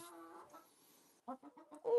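A hen in a laying box gives a few short clucks, close and fairly quiet, with brief gaps between them and a louder final call.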